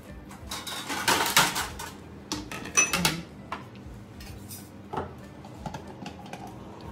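A plate is picked up and handled in a home kitchen during festival cooking with almonds and cashews, giving a cluster of sharp ceramic clinks and clatters up front, then a few sparser knocks, close by and with no talk.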